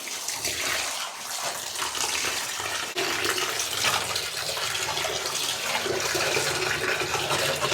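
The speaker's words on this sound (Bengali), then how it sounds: "তার আগে ভালো করে ধুয়ে নিচ্ছি।" Kharkol leaves rinsed under a running tap, a steady broadband gush of water splashing continuously throughout, close and fairly loud, with no talking.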